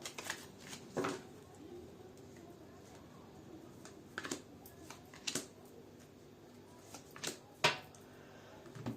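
Tarot cards being shuffled and drawn from a deck, heard as faint, close riffles and soft flicks that come in short bursts with pauses, over a low steady room hiss.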